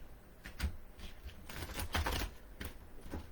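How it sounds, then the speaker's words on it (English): A tarot card deck being shuffled, with soft riffling bursts and flutters repeating several times at close range, over a faint background hiss and no talk. "Just getting a good shuffle on this tarot"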